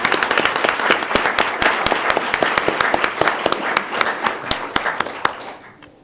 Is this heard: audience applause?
yes